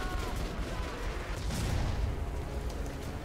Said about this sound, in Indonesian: Coba tembak kakinya.